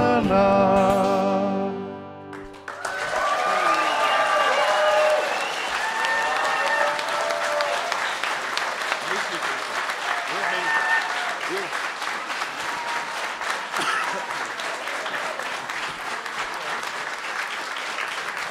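A live crowd breaks into sustained applause as a sung tune ends, the clapping rising to a broad, dense roar and holding steady with voices calling out underneath.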